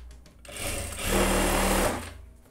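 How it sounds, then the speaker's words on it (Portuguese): A sewing machine runs a seam while sewing pantacourt trousers, a steady close mechanical whir that speeds up, holds for about a second, then slows and stops, with no talking. "e vou passando uma costura aqui"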